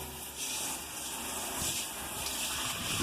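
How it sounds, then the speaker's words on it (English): Water gushes steadily while rinsing soap out of a blue BBQ pit and down a drain, a close, continuous rushing hiss with no talking. "I want to rinse it out down my drain"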